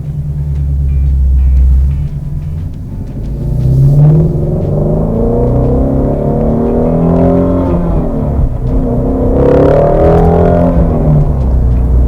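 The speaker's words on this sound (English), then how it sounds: "maybe we'll hear that exhaust one more time" A 2017 Ford Mustang GT350 engine revs hard through its exhaust, a deep rumble swelling into rising, throaty roars that build and fall again, loud and close.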